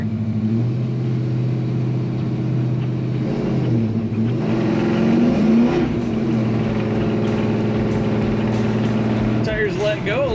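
A 1970 Chevrolet C10 pickup engine hums steadily while driving on damp blacktop, its pitch dipping and rising as it shifts and accelerates, with a voice talking over it.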